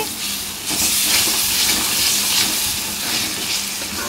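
Ginger garlic paste frying with onions in a hot pan for an Andhra-style pitalu curry, a loud, steady, close sizzling hiss that swells slightly and holds throughout.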